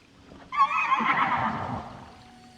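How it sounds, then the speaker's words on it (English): A horse in Zelda: Tears of the Kingdom lets out one long, loud whinny that begins abruptly, wavers and then fades, standing alone over faint background sound. "Crazy neigh sounds happen."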